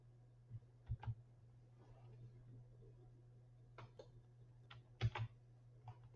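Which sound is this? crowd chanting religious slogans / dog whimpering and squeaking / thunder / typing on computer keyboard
typing on computer keyboard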